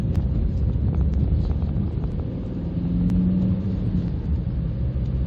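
Steady low road rumble and wind noise from a 2009 Ford Focus Estate Mark II 1.6 TDCi Zetec diesel being driven, a continuous close cabin drone with no talk.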